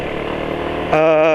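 A motorcycle engine badly in need of an oil change idles steadily and loudly up close, its tone shifting slightly near the end as the running note becomes more even.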